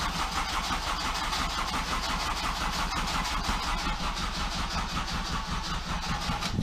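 A Honda Civic EP3 engine cranks and runs with a steady, loud, continuous mid-pitched drone close by, under repair for an ECU and immobilizer fault.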